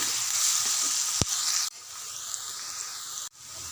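Fresh ginger garlic paste frying in a pan for chicken curry, a loud continuous sizzle close by, broken by a sharp tap and two brief dips, no voices.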